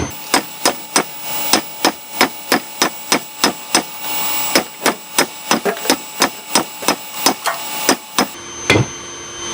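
Steady hammer blows on hot steel as a fire poker is drawn out at the forge, roughly two ringing strikes per second, close and loud, with a brief pause midway and a final scrape near the end.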